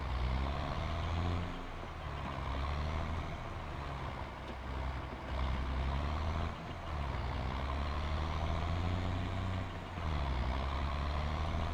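A 120 horsepower tractor pulling a load in a farming simulator game, a continuous low engine drone with slight surges and dips in strength, fairly faint and with no voices.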